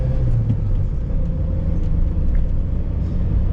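A 1993 VW Polo 1.0i with a 45 hp engine accelerates from inside the car, a steady, close, loud low engine drone with road rumble and no break.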